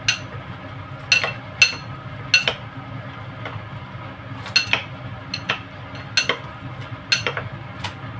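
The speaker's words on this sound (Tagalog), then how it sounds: "Gagamit ako ng spoon para mahalo ng maayos" A spoon mixes noodle salad in a bowl, giving sharp metallic clinks and scrapes at an irregular rhythm, close and fairly loud over a low background hum.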